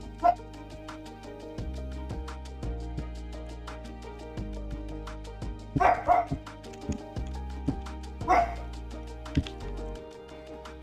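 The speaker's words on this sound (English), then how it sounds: "the dog is barking. Bark, bark, bark." A dog barking in short, sharp bursts, a few scattered barks over a steady musical background.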